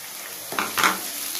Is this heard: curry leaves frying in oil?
yes